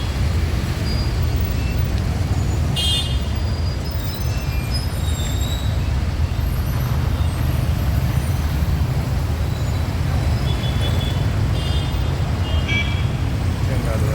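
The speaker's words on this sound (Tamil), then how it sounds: "மேம்பாலத்தில் அந்த காரெல்லாம் போகுது." Heavy road traffic streams past at the Eechangadu signal near a flyover, a constant loud rumble of cars, buses and trucks with brief brake hisses, while someone talks over it.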